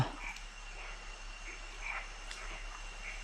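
Frogs croak beside water at night in a forest camp, a steady chorus of repeated calls spread across the background, moderately faint with a soft constant hum underneath and no talking.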